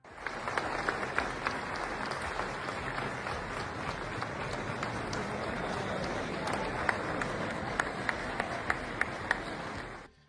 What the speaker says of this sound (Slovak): hostia v Davose Donaldovi Trumpovi venovali búrlivý potlesk